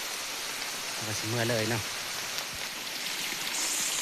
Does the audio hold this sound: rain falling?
yes